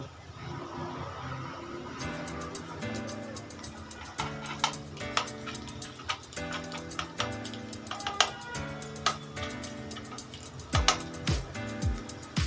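Snacks sizzling in hot oil in a pan over a low gas flame, a continuous crackle with many sharp pops and spits scattered throughout, close and fairly quiet, without voices.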